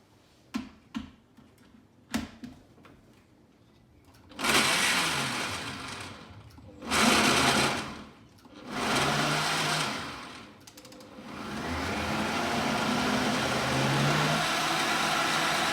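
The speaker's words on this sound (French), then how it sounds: "je remets quelques dés de mangue et d'ananas, je remets à mixer" A Nutriblender whirring through diced mango and pineapple for a smoothie, a few sharp taps first, then loud, close bursts of blending that rise and pause several times before a longer steady run.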